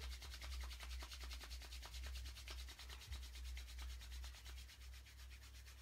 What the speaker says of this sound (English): Let's just bring the hands together, rub the palms vigorously.